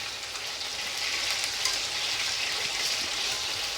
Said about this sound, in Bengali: মাছটা একবার পাল্টি করবো হালকা করে ভাজবো তাই এটা পাল্টি করে দিই একবার